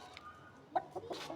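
Chickens cluck softly in a few short, faint calls near the end of a quiet moment, with no voices over them.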